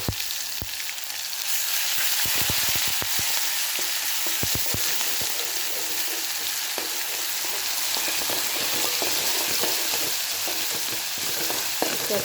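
Green chili paste fries in a pan with a loud, continuous sizzle, broken early on by a few crackling pops and stirring scrapes.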